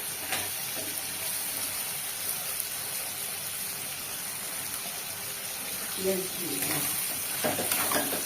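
Onions frying in a pan after garlic, with eggplant already fried and set aside, giving a steady broadband sizzle throughout, with a few louder clatters of stirring near the end and no talking.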